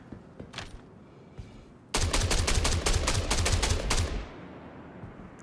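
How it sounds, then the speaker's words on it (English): Automatic gunfire in the video game Star Citizen, a sustained rapid burst of shots lasting a couple of seconds after a few faint scattered sounds, loud and close, ending abruptly. "I see one pixel of light and I shoot at it"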